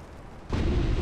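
Battleship main guns firing a salvo in the naval game Ultimate Admiral Dreadnoughts: a sudden heavy boom cuts in halfway through after quieter background rumble, then rolls on loud and deep.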